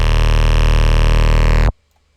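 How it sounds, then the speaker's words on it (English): Loud sustained Eliminate 808 sub bass from an FL Studio EDM remix, a fat, crisp low tone with rich overtones holding steady for under two seconds, then cutting off abruptly into silence. "For this, I used an Eliminate 808"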